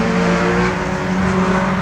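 Mini stock race cars roar past on a dirt track, a loud, dense engine drone with steady tonal harmonics filling a short burst.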